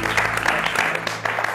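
Loud, dense clapping from a studio audience on a Marathi TV talk show, continuous and enthusiastic for a moment, with faint voices murmuring underneath.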